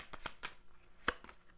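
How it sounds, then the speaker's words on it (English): A deck of tarot cards is shuffled in a few quick riffling bursts, close and fairly quiet, with short pauses between them. "We're going to get a couple shuffles here, right?"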